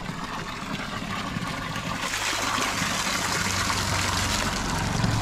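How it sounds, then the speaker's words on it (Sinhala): Water flowing weakly at an old bathing spot, a steady close splashing trickle that grows a little fuller partway through and then runs on evenly. "දැන් මේ කාලේ නම් වතුර මදි එන්නේ පොඩ්ඩයි එන්නේ"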